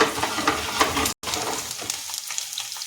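Loud, steady sizzling and crackling of garlic and dried chillies frying in hot oil, with a brief cut in the middle before the frying continues.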